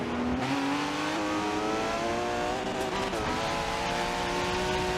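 A Ferrari race car on a racing circuit howls steadily through the whole stretch, its engine note climbing and dipping as it works toward a chicane, loud and close with a faint tire squeal.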